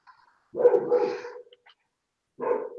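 A dog barking outside near the house, two short bursts of bow-wow barks close by, separated by a silent pause.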